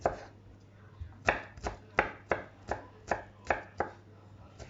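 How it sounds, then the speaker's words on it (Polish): A knife chops crushed garlic into strips on a cutting board for a no-boil pasta: about ten sharp, evenly spaced thuds, close and clear with nothing else audible. "Także czosnek sobie zgniatam, kroję w paseczki."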